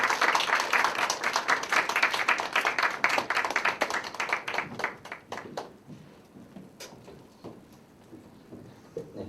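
A church congregation at a university worship service claps to welcome a mentor, loud dense applause that thins into scattered individual claps and fades to near quiet.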